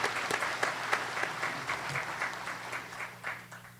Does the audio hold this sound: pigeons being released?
no